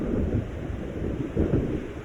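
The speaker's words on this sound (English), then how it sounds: "It seems there's a storm coming." Low, rolling thunder of an approaching storm in the Alan Wake video game, two deep rumbling swells a second apart over a steady low wash, with no talking.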